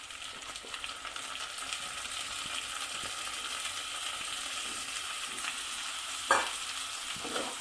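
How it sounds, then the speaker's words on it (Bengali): Soaked Gobindobhog rice goes into a pan of fried spices for muri ghonto and is stirred, giving a steady sizzle and scraping with one sharper clatter near the end. "এবার আমি এই ভেজানো গোবিন্দভোগ চালটা এর উপর দিয়ে দিচ্ছি"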